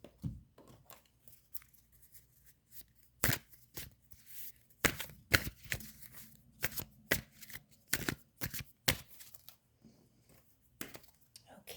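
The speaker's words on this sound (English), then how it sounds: "Shuffle your cards." Tarot cards shuffled by hand in a series of crisp riffling bursts, each a sharp papery flutter separated by short pauses, close and moderately loud with no talking.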